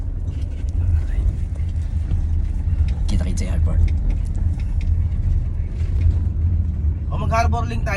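Steady low engine rumble and road noise inside a car heading to the airport, continuous throughout, with people talking over it and a brief higher vehicle whine near the end.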